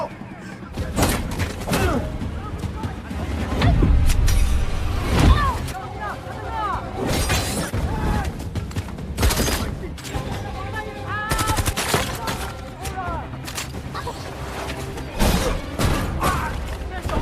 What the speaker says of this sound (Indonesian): Sambil menghindari tembakan dari anak buahnya Vogel